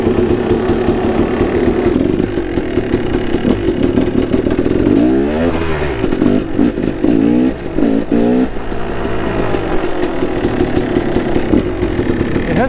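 A KTM two-stroke dirt bike engine on a ride, loud and close, blaring steadily and climbing in pitch through several revs as the throttle opens and closes.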